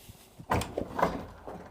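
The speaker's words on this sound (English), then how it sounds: "Power door. We're going inside." Powered sliding door on a 2005 Viking 61 Enclosed Bridge yacht, opening with a soft thump and a short run of rolling, rumbling movement, then a couple of lighter knocks, close and fairly quiet.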